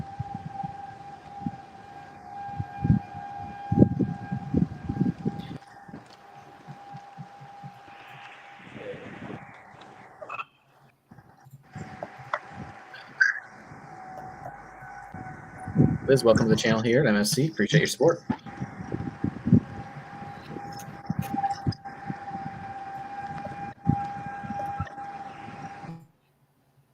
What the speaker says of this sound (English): in the background, you can hear those outdoor warning sirens sounding for the confirmed tornado in DuPage County